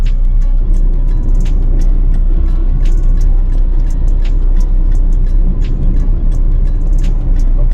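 Steady, loud road traffic noise from a traffic jam on a hill road between Shimla and Punjab, a continuous low engine rumble with scattered brief higher clicks and hisses, no speech.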